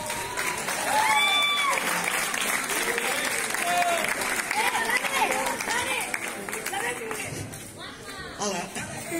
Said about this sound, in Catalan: així que un fort aplaudiment.